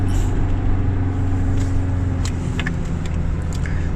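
A car held in locked first gear descends a steep mountain road, its engine revving in a loud, constant drone with a few faint clicks and squeaks over the top, no talk.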